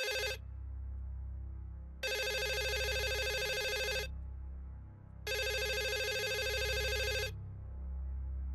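A telephone rings in three long electronic bursts separated by short pauses, loud and close against a low background hum.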